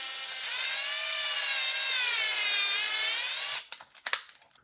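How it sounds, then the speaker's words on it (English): Power drill with a 5/16 bit boring a hole through the handle of a Hasbro toy wand, a steady loud whine lasting about three and a half seconds, then stopping with a few short clicks and knocks. "You're gonna need to drill a hole through the handle"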